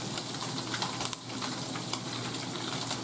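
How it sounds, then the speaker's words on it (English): Fish pan-roasting in a hot skillet gives off a steady, close sizzle with soft crackling pops, continuous for the whole stretch with no talking. "now, while that's sizzling, you're only going to cook it 3 minutes"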